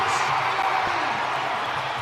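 Stadium crowd at a 4x400m relay in the Bahamas, a steady wash of distant cheering and roar sustained throughout, with a commentator's voice faintly underneath.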